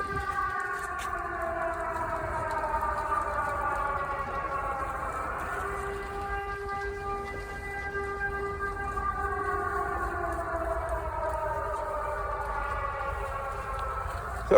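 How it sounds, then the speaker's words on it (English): Air raid sirens wail across a city in Ukraine, long tones slowly rising and falling in pitch, distant and steady against a low background rumble with no talking. "the air raid sirens going out"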